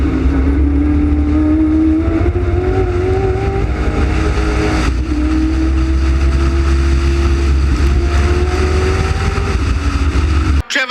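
Race cars, including an Escort, roaring through the kink into Interceptor corner on a circuit during a heat, engines droning loud and sustained with rising and falling pitch as they pass, and a brief sharp cut near the end.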